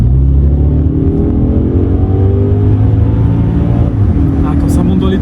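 An Audi S5 coupé engine revs high and loud, a sustained rising drone that holds steady, with people talking over it.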